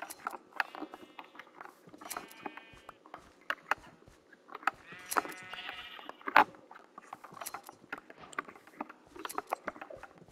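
Repeated sheep bleats from Minecraft, several short calls scattered across the clip among clicking game sounds and item pops, moderately loud with no talking.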